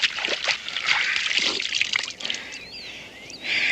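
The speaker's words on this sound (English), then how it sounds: "Splash some of this water in your face." Water splashes and trickles close by in short wet bursts, followed by a thin dribbling patter, with no talk over it.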